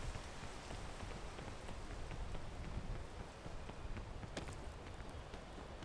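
Rain patters in the climbing video game Peak, a dense, low-level wash of drops with a few faint taps and footfall-like knocks mixed in.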